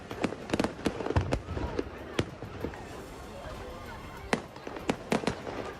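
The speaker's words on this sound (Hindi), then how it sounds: "इतने पटाखे फूटे कि अच्छा भला ट्रक किसी चिता की तरह जलता दिखा।" Fireworks stored in a truck go off during a bonfire night celebration, with a rapid, irregular string of sharp bangs and crackles over a constant roaring, noisy background.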